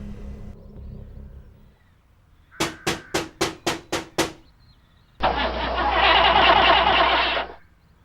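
An old car engine, flooded and full of mud, cranks in a rapid series of about seven loud, even strokes. After a short pause it gives a long rough whirring churn that fails to catch and then dies away.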